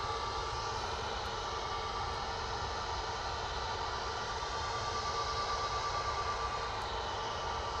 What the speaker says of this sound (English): EasyJet A380 Neo off to Faro